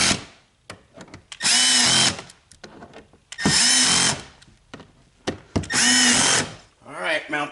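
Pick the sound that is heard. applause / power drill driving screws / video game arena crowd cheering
power drill driving screws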